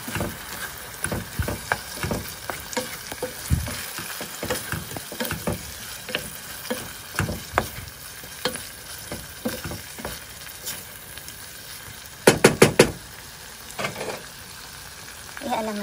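Garlic, white onion and saba banana sauté in a pan with salt and black pepper, giving a close frying sizzle. A utensil scrapes and clinks against the pan irregularly, with a quick cluster of sharp taps near the end.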